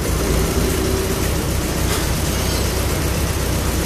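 An MGB fitted with a Weber DCOE carburettor and long-branch manifold idles roughly with cylinder two disabled, close to stalling: a loud, steady, close-up rumble with no talk.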